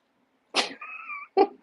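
A cat makes short, close vocal sounds indoors: a sharp burst, a sustained tonal meow-like call, then another brief burst, all heard alone against silence.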